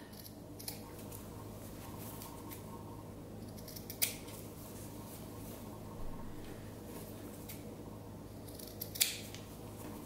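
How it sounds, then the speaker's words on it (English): Scissors trimming the corners of toweling fabric for reusable paper towels, giving a few quiet, isolated snips over a steady low background hum. "I'm just gonna cut it off a little bit just to remove some of that bulkiness. And I also like to just trim down the corners just a bit."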